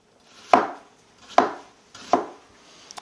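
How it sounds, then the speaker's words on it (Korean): Half an onion being sliced into thin strips on a cutting board, with three distinct knife chops landing at an even, unhurried pace, each a crisp close thud with quiet between strokes. "여기다가 양파 반 개 이상을 채 썰어 가지고 넣어줄게요"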